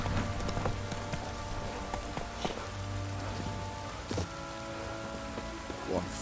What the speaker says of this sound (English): Puff rose and brought us rain.